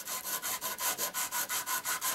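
An emery board sands the bottom of a hand-shaped diecast custom build, rubbing in a steady rhythm of about a dozen short back-and-forth strokes, close and crisp, with no talk.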